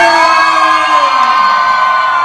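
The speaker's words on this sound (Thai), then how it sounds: "ขอเสียงกรี๊ดดังๆให้กล้องในใจครับ" A crowd at a concert screams and cheers loudly and continuously, high shrieking voices blending into one sustained roar throughout.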